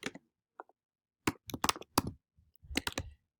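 Computer keyboard typing while entering an R package install command, in short irregular clusters of crisp clicks separated by pauses, close and clear with no talk.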